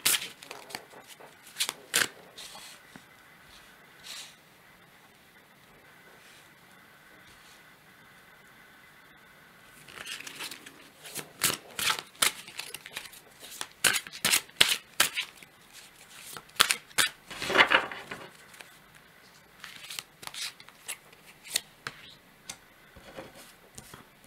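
Playing cards shuffled, handled and drawn from a deck, heard as a quiet stretch followed by quick bursts of crisp riffling and flicking snaps that cluster closely together.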